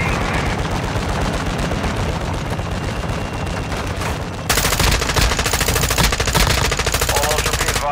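Sustained rapid gunfire in the Call of Duty DMZ shooter, dense automatic bursts that grow louder and harsher partway through, with faint voice chatter underneath.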